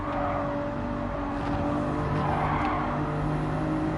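A Toyota Supra races in Gran Turismo 7, its engine a steady, continuous drone with a rough broadband roar and faint tire noise throughout, at an even loudness.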